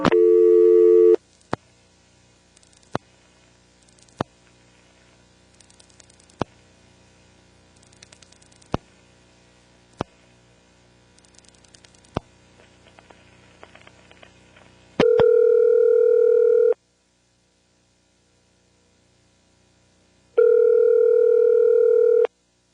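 A telephone call is set up in an NX1-E switching office: scattered sharp relay clicks and pulses, then loud steady tone bursts that cut off into silence and resume, with a faint background hum.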